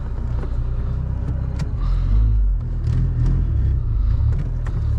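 A Honda Civic Si pushes through deep snow, its engine rumbling steadily with surges of revving and the low churn of tires and body plowing through snow, heard from inside the car.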